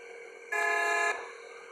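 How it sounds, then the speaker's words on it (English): A car horn sounds once in a driving game, a steady loud honk lasting about half a second that rises sharply over a constant engine-like tone and then cuts off, with no talking. "But I accidentally pressed on the horn"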